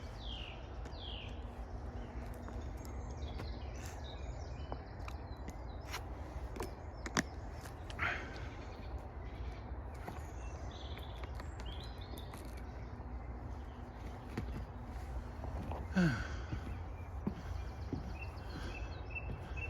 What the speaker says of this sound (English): I'll shut up and listen to the bird song.